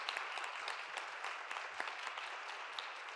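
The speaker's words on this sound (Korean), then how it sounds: "들어갈 때 박수로 축복해 주세요." A church congregation claps together in steady, continuous applause filling the room, with scattered sharper claps standing out; no one speaks over it.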